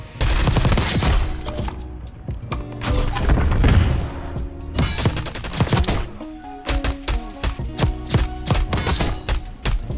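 Rapid bursts of AK74 rifle fire in Black Ops 6, loud and close, with sustained automatic strings broken by short pauses and sharp single cracks, plus mechanical clicks of the weapon.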